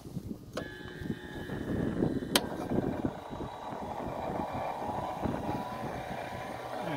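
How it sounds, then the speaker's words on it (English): A blower fills an egg-shaped air form for ferro-cement tank building, a steady rumbling rush of air that swells slightly early on and then holds constant, with a couple of sharp clicks near the start. "I'll be testing the blower out and the air form"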